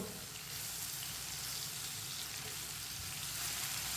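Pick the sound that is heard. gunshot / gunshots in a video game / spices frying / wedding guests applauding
spices frying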